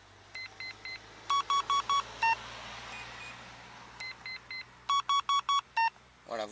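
A MAD FSX carp fishing bite alarm sounds through its tone settings, giving repeated short electronic beeps in quick rapid bursts at several different pitches, with short pauses between each group, close and clear over a faint background hum.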